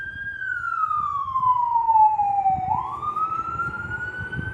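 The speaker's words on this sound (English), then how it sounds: "we have the sirens going out there and ambulances" An ambulance siren wails steadily outside, its tone gliding slowly downward and then sweeping back up, loud and close over a low road rumble.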